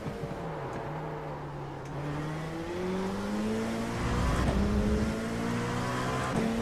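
A race car engine in iRacing revs steadily, its pitch climbing and falling through gear changes as the car pushes toward the rev limiter, loud and continuous with no talk.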